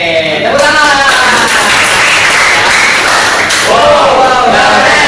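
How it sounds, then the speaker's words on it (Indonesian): An audience clapping, a dense burst of many hands applauding close by, with some people speaking over it. "Oke, tepuk tangan."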